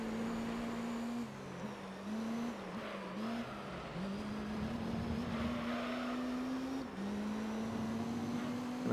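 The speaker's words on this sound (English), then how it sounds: "this is a bunch of road cars going against pretty much a GT3 level race car from the era" Road cars and a GT3-level race car from the era racing in Gran Turismo 3, engines droning steadily with pitch rising through gears and dipping at shifts, a continuous close engine note over faint background tire and crowd noise.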